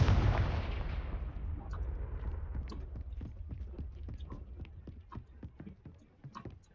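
A Confringo blasting spell explodes in Hogwarts Legacy, a loud burst that decays into a long rumbling tail, followed by scattered clacking impacts and debris taps fading off.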